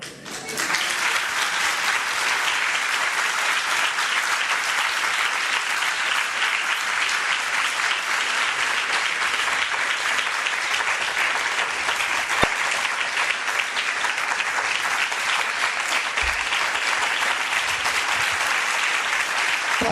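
Audience at a spiritual meditation discourse applauds steadily and loudly for about twenty seconds, a dense, even wash of clapping with no voices on top.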